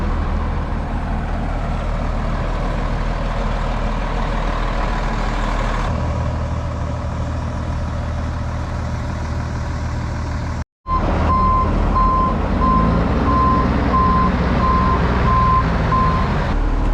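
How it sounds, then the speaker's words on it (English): A truck pulls in and backs up on a farm during earlage harvest, its engine rumbling loudly throughout while a steady series of backup beeps sounds in the second half after a brief dropout. "I'm just waiting here for the first truck to show up"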